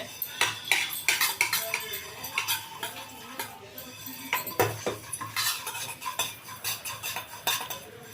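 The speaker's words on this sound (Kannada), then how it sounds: "ಎಳ್ಳು ಸಿಮ್ಮಲ್ಲೇ ಇಟ್ಟು ಉರಿಬೇಕು ಇಲ್ಲಾಂದರೆ ಎಲ್ಲ ಎಗರ್ಬಿಡುತ್ತೆ" A spoon scrapes and clinks against a pan as about three tablespoons of sesame seeds are stirred and dry-roasted over a low flame, with a steady run of close metallic scrapes and taps and a faint crackle beneath.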